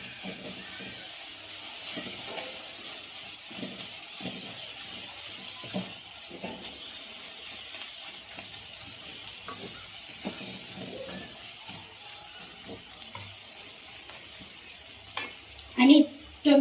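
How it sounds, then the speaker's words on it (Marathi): Coriander dropped into hot oil for a toor dal tempering sizzles softly and steadily, with repeated stirring scrapes and taps of a spoon and a louder clatter toward the end. "आता तेलामध्ये आपण कोथिंबीर टाकून घेऊया"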